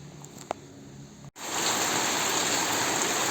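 Quiet outdoor ambience, then a sudden swell into a dense, steady roar of heavy rain pouring down, loud and continuous.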